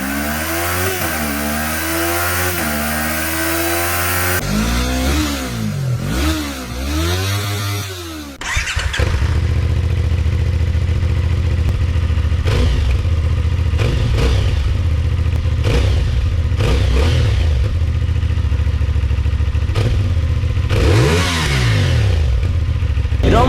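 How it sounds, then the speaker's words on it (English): A CFMoto 450 SS twin-cylinder motorcycle engine revs hard several times with a rising and falling burble, then settles into a loud, steady, lumpy idle with occasional blips. "the 450 SS or SR also has a twin cylinder engine, but the exhaust note is a lot cooler"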